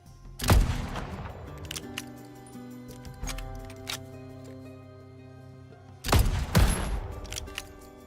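Two sharp bursts of gunfire, around half a second and six seconds in, crack out in the Western survival video game Legend of California, with a ringing tail and quieter game ambience between the shots.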